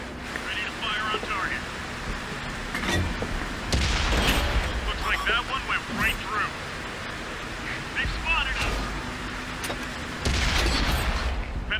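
Incoming tank cannon fire in a World War tank video game, heard as booming impacts and rumbling blasts with noisy crackle from the battle, fairly loud and dense throughout.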